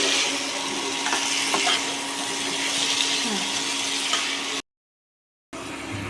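Mutton keema with onions fries in a pan, giving a continuous sizzle with a low steady hum and occasional stirring clatter, then a brief silent cut before the frying sound resumes.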